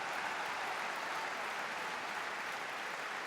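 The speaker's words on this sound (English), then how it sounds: "Sheffield United fans applauding here in the 58th minute" Sheffield United fans applaud steadily at a League One football match against Gillingham, a dense, even wash of clapping from a large crowd heard at some distance throughout.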